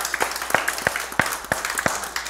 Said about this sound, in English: Give the Lord a hand clap this morning